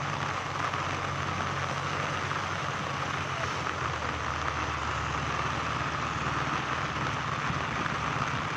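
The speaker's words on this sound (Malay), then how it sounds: "Tuan-tuan boleh tengok hujan semakin lebat sini." Heavy rain pours down steadily during flooding in Kuantan, Malaysia, a dense continuous hiss of drops hitting surfaces, with a low rumble underneath and no pauses.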